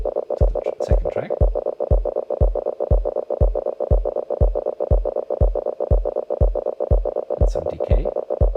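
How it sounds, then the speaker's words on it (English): An Elektron Digitakt sequences a steady, fast pulse of short synth notes, each followed by a reverb tail that washes out behind the beat. "Let's add some reverb"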